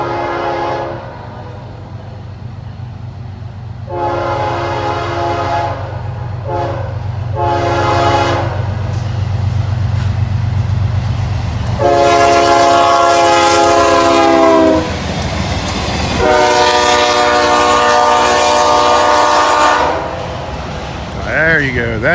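A locomotive rumbles past up close, sounding several short horn blasts and then longer sustained ones over the heavy engine roar.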